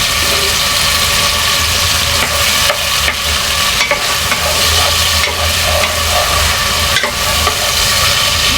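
Fish sauce hits a hot sauté pan for chicken tinola, setting off a loud, continuous sizzle and frying crackle with occasional stirring scrapes.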